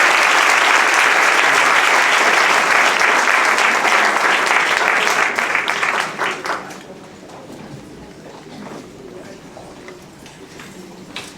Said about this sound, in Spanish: otro aplauso a todos.